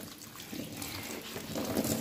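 Chickpeas being rinsed under a running kitchen tap, a soft continuous splash and trickle that swells slightly louder near the end, with no voices.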